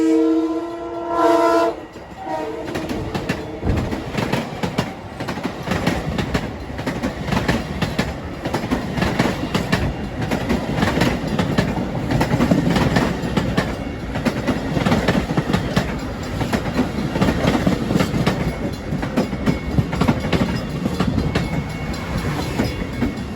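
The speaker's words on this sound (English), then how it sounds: "We got an eastbound Huntington train departing behind me." Eastbound Huntington commuter train departing past the New Hyde Park Road grade crossing, opening with a short horn blast, then a loud, steady rumble and clatter of railcars rolling by nearby.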